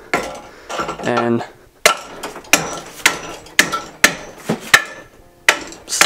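Hammer blows on a screwdriver wedged into an old Miata suspension bushing: a string of sharp metallic smacks in an uneven rhythm, close and loud, following a short rattle of handling, with one brief spoken word.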